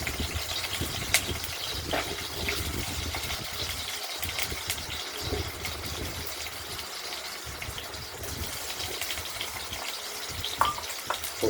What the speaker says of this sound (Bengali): প্রথমে আমরা আলুগুলোকে ভেজে নেব ফোড়নের সঙ্গে সঙ্গে।